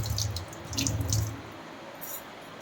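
Tap water runs over durva grass being rinsed for a puja, a close, steady splashing that is strongest in the first second and a half, then fades to a softer trickle, with no talk.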